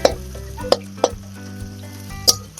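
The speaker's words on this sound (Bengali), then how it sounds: "পেঁয়াজটাকে একটু হালকা ভাজা ভাজা করব, যাতে পুড়ে না যায়।" Chopped onion frying lightly in a pan for a village-style Bengali fish kalia, with a soft continuous sizzle broken by a few sharp scraping clicks from stirring; no voices.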